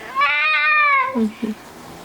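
A cat lets out one long, drawn-out meow at close range in a home, then a couple of short chirping calls follow before the clip goes quiet.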